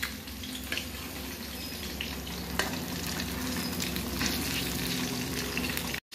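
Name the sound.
frying chicken pakora meat in a pan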